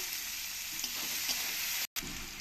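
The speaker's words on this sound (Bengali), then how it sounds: "এগুলোকে ভালো করে আমি ভেজে নেব" Steady, close sizzling of whole spices frying in hot oil for a rohu fish curry, with a few faint scrapes and a brief dropout near the end.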